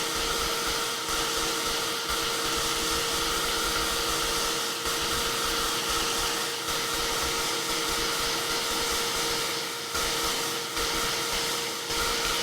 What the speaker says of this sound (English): let me hit this with some heat